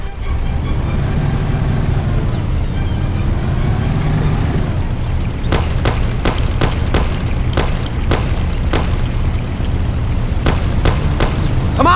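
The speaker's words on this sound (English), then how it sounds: "Take my Thompson. You and Sam shoot them." A Thompson submachine gun fires in a Mafia video game, sharp bursts of rapid shots starting midway over a loud, steady engine rumble of a moving car, with repeated cracks in quick succession.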